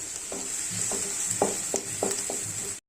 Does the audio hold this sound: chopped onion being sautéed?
yes